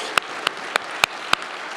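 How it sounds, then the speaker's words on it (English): Audience applause on a conference main stage after a fireside chat: a steady wash of clapping with a few louder, evenly spaced claps standing out close by, and no voices over it. "Can you join me in giving John Stackhouse a round of applause for joining us here on the main stage?"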